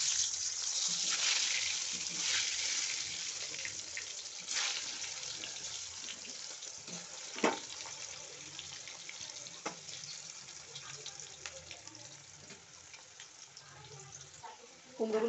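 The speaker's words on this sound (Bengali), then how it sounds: "কুমড়োগুলো ভেজে নেব" Pumpkin pieces fry in hot oil in a kadai for a vegetarian pumpkin curry, giving a quiet, continuous sizzling hiss that is strongest at the start and settles to a softer crackle with a few sharp pops.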